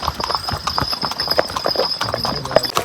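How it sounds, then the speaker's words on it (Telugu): Horse hooves clip-clop in a quick, irregular rhythm on a muddy mountain trail ride near Baisaran valley, Pahalgam, Kashmir, close and clear with faint background noise. "ఇప్పుడు 6 kilometers వరకు వెళ్ళాలి గుర్రం మీద"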